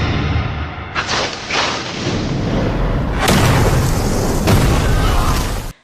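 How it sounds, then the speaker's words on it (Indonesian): Loud explosions boom in succession, each blast erupting into a roaring, crackling rumble of debris that sustains before cutting off abruptly. "Akibat ledakan itu"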